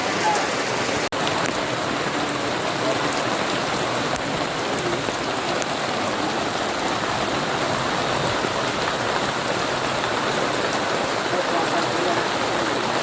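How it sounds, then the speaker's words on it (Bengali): Heavy rain pours down in a dense, unbroken hiss, drumming steadily on surfaces at close range in a Sundarbans village, with no pauses. "ঝমঝম করে বৃষ্টি হচ্ছে।"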